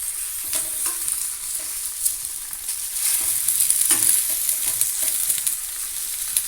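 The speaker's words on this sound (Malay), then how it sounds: "So ikan ni kita kena terbalik-terbalikkan lah bagi dia masak," Milkfish cooking percik style sizzles steadily in a hot pan while being turned over, a continuous close frying hiss with faint scraping and stirring movements and no talking.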